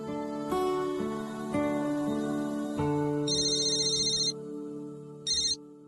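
An electronic phone ringtone plays a melodic tune, then switches to repeated higher beeping bursts, clear and close with no talking.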